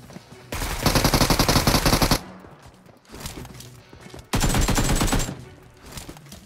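Automatic gunfire in the mobile battle royale game Peace Elite: two long, loud bursts of rapid machine-gun fire separated by quieter scattered shots, close and harsh.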